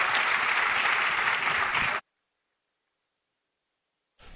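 Applause for a congressman at a global impact forum rolls loudly for about two seconds, then cuts abruptly to silence before a brief burst returns at the end.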